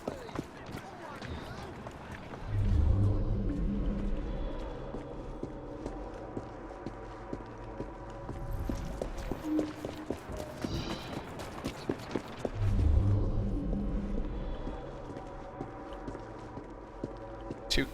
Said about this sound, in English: Two carriages.